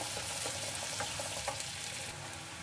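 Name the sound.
chopped onions frying until golden brown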